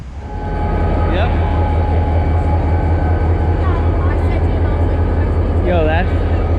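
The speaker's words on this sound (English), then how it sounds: "Yo, that is a big train." A big freight train rumbles past close by near the Pennsylvania Grand Canyon, a steady loud roll of wheels with metallic squeals and clanks, as people talk over it.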